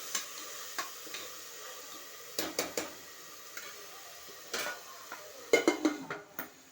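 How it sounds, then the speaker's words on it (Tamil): Something is sautéed with a little turmeric in a pan, with sparse metallic taps and scrapes of a spoon against the pan over a quiet background sizzle and a brief cluster of clinks near the end. "இது நல்லா வதங்கணும்"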